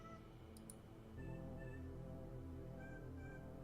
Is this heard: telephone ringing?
no